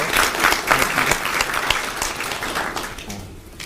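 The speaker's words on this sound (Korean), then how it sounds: "환영의 박수 한번" A room of university students gives a welcoming round of applause at a first-day-of-semester meeting, dense clapping that stays strong and then gradually thins and softens toward the end.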